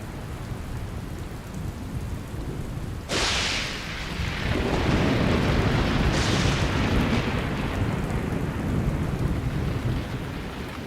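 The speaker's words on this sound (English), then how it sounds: "The relentless rain gradually begins to fill the pans." Relentless rain pours over open plains during a thunderstorm. Two sharp thunder cracks split the steady hiss of the rain, and long rumbling roars follow each crack.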